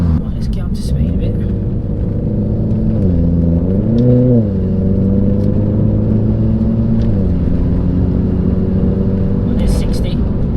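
A Renault Clio RS accelerates hard from inside the cabin toward 60 mph, its engine note climbing steadily through the gears with a brief dip at a shift, loud and continuous with road rumble underneath.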